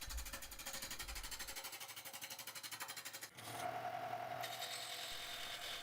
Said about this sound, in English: I'm using one of my skews as a scraper to remove the cut lines from the gouge